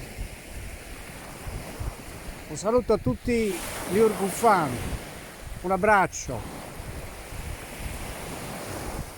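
Sea waves wash steadily onto a beach on Sardinia's west coast, a continuous broadband surf with wind noise on the microphone, while someone talks close over it for part of the time.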